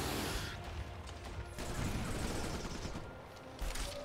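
Units in the strategy game Civilization: Beyond Earth trade fire in a dense burst of gunshots and crashing impacts, steady and fairly loud for several seconds with no talk over it.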